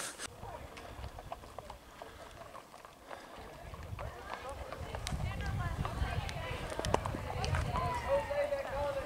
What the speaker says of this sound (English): the mules are going through switchback after switchback